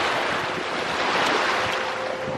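Ocean surf rolls steadily onto a beach at a Puerto Plata resort in the Dominican Republic, a continuous close wash of waves mixed with wind buffeting the microphone.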